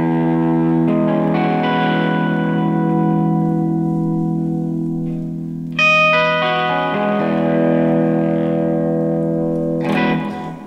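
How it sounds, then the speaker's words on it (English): A used Harley Benton electric guitar rings out through a Vox-style amp with reverb and delay, loud sustained chords that decay and are restruck, with slightly breaking-up tone and echoing tails. "get a little bit of reverb on, a little bit of delay, go through a more voxy type amp"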